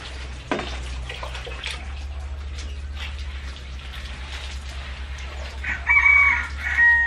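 Rural chickens clucking on a Philippine homestead, with a rooster crowing loudly near the end, over a faint low hum and scattered background noise; no talk.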